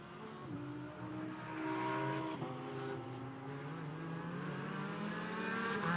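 GT4 race cars at Monza exiting the Parabolica, their engines droning and rising in pitch as they accelerate past at a distance, with overlapping exhaust notes sweeping through the scene.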